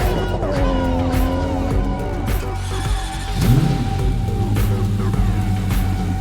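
Tuned V6, inline-six and V10 car engines in the video game Cyberpunk 2077 roar and rev together, their pitch climbing and falling in sweeps, with a loud, steady mechanical drone throughout.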